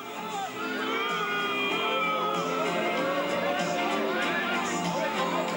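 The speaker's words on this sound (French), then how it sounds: "Succès et acclamation pour Lou Doyon." A red-carpet crowd cheers and acclaims actress Lou Doyon, with a sustained roar of whoops, shouts and high-pitched voices that rises quickly and stays dense and loud throughout.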